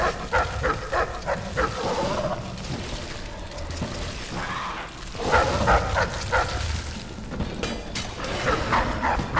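Dogs barking and yipping from kennels in the video game Dishonored, repeated bursts of barks over a steady ambient game background, fairly close, with brief whimpers between.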